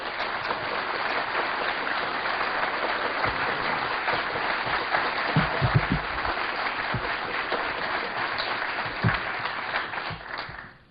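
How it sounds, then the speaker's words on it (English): Sustained audience applause at a conference talk, a dense, steady wash of many hands clapping for nearly eleven seconds before fading out at the end. "if you will please give a warm round of applause to Mark Phillips and Cathy O'Brien."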